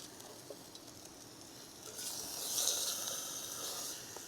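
Steak sizzling in a pan at a rainy campsite, a soft, steady hiss that rises to a brighter crackling sizzle midway and then eases, fairly faint and alone.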